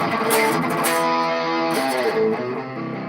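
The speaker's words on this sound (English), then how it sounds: "the overdrive setting, which this is mimicking the Boss OD1 distortion" An electric guitar plays sustained, chorded notes through a Boss ME90 overdrive setting modelled on the Boss OD1, with the drive turned all the way up, giving a steady, gritty tone with no talk.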